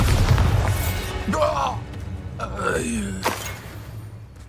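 A Bombarda explosion spell goes off in the video game Hogwarts Legacy, heavy booming rumble with crackling magical whooshes and debris-like creaks rising and falling over several seconds, loud and close.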